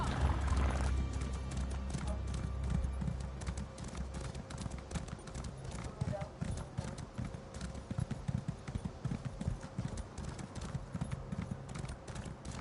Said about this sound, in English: Oh, I have a horse.